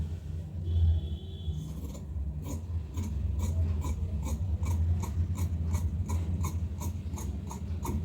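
Scissors cut through blouse fabric for a princess cut, a quick run of rhythmic crisp snips that follows a brief rustle of handling, close and moderately loud, with no talking.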